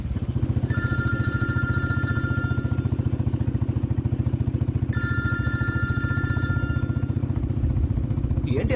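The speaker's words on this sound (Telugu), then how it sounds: "ఏంటి అర్ధరాత్రి ఇప్పుడు నాన్న ఫోన్ చేస్తున్నారు?" A phone rings with an incoming call late at night, a steady repeating electronic ringtone pattern that loops twice over a loud, continuous low rumbling background, with no talking.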